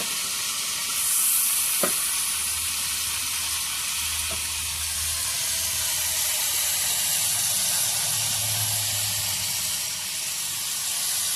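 Jackfruit pieces fry in hot oil, a steady close sizzle and hiss running throughout with a couple of faint utensil taps, no talking.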